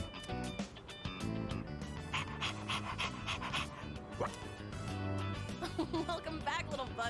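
A dog pants rapidly in the video game Persona 3, quick rhythmic breathy huffs running through the whole stretch, layered under game music and a talking voice.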